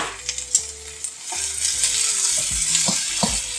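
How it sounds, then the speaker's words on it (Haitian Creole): Food sizzling and frying in a pan, with a crackling hiss throughout, some stirring clatter and utensil knocks, close and moderately loud, no talking. "Vous sentez qu'il a bien frit."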